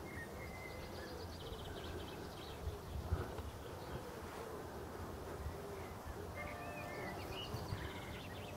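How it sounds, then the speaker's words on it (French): Small local bees buzz among tiny flowers in an organic permaculture vegetable garden in Brittany in mid-May, a soft continuous drone close by, with faint birdsong and light wind in the background. "Les petites abeilles de Bretagne,"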